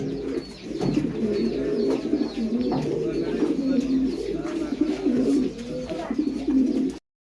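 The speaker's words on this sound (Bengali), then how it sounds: "খুব সুস্থ সবল একটা কবুতর মডানা কবুতর বলে এটাকে" A Modana pigeon coos continuously, close and loud, a steady run of low rolling coos with little pause, and no talk over it.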